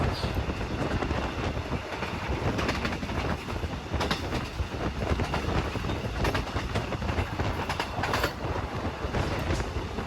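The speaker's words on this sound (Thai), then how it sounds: "ขบวนรถเร็วที่ 135 ต้นทางกรุงเทพอภิวัตรปลายทางอุบลราชธานี" Rapid train no. 135 from Bangkok to Ubon Ratchathani passes close by, a loud, sustained rumble with rhythmic clatter of wheels on rail joints and occasional sharp metallic squeals.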